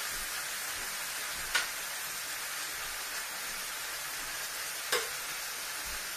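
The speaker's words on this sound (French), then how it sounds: "Je vais laisser que la viande soit un tout petit peu dorée" Rabbit meat browning in a pan, a steady soft sizzle and hiss with no talk, broken by two faint clinks.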